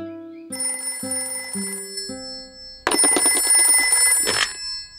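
A cartoon telephone rings loudly in repeated electronic trills, a stepped series of tones followed by a harsher, buzzing ring, close and without voices.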